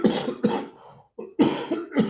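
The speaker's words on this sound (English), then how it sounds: "Before I cough myself to death." A person coughs repeatedly at the end of a scripture lecture, with several harsh, close bursts in two clusters separated by a brief quiet gap.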